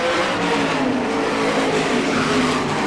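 Race cars accelerate hard around a racetrack, a loud, dense engine roar that stays steady and close for the whole stretch, with no voices over it.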